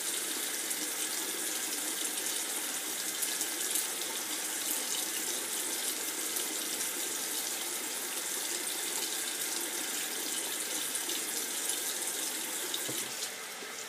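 Tap water runs in a steady, even rush for face rinsing, close and continuous with no break until a slight drop at the very end.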